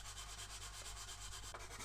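A sander rubs steadily over the hull join of a plastic Flower Class corvette scale model, a continuous close, even scraping hiss with a slight pulsing rhythm and no talk.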